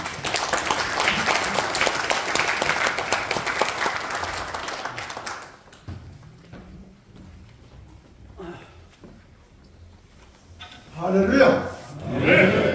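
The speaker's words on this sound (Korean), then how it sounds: "목사님 나오실 적에 우리 뜨거운 박수로 환영하겠습니다" A congregation at a church breakfast worship service gives warm, sustained applause to welcome a retired senior pastor to the pulpit. The clapping is loud and dense for about five seconds, then fades into quieter room sounds and a few scattered noises.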